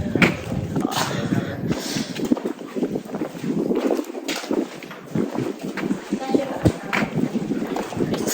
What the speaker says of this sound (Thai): ลมลมแรงมาก